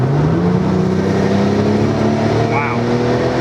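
Loud, close engine drone from a 2008 Porsche 911 Turbo (997) heard from inside the car, its pitch climbing steadily as it accelerates, with a brief whine near the end.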